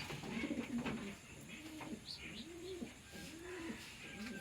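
A chocolate grizzle pigeon coos close by in a rhythmic series of low, rolling calls, several in a row over a faint background hiss.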